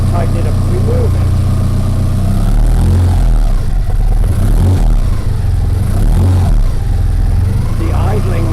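A Lancia Delta Integrale engine idling steadily while the throttle is moved, a continuous close low rumble with slight shifts in tone, under someone talking.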